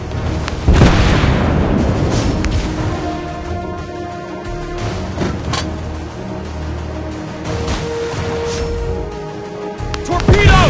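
Heavy guns firing from an Italian warship in World of Warships, loud booming blasts with long rumbling tails, spaced several seconds apart, one right near the start and another near the end, over a low engine drone.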